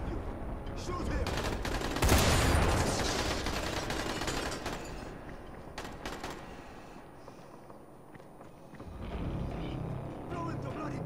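Gunfire in the video game Dying Light 2 cracks in dense, overlapping bursts amid a loud, chaotic battle din, swelling to a heavy blast early on, then thinning out before building again.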